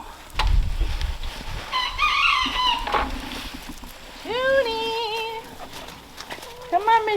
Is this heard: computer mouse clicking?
no